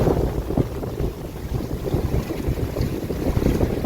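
A sailboat under way in transit toward the UK, with strong wind buffeting the microphone and water rushing past the hull in a loud continuous roar.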